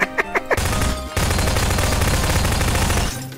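A rapid burst of gunshots hits thick window glass in Garry's Mod. A few sharp separate shots open the clip, then a dense continuous volley runs for about two seconds before stopping abruptly, with no talking.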